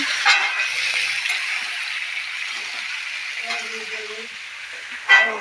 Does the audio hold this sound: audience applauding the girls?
no